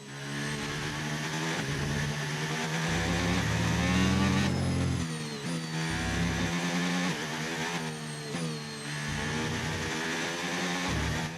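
In the F1 25 video game, a Formula 1 car at the Hungarian Grand Prix revs in sharp bursts, its high whining engine note climbing and dropping repeatedly with brief pauses between throttle blips.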